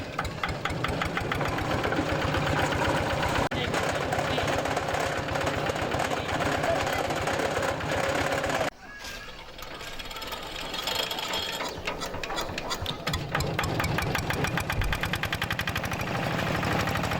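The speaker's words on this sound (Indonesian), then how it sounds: "Jagung dimasukkan dalam mesin perontok jagung secukupnya, sehingga hasil yang diperoleh berupa pipilan jagung." Motorized corn sheller threshing maize in an Indonesian corn-growing area, running loud and continuous with a rapid rattling, knocking mechanical rhythm that dips briefly midway before resuming at full din.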